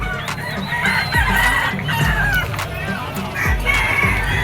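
Roosters and stags at the Malabon pet market crow and cluck in overlapping calls amid a steady, busy market din, with someone talking over them.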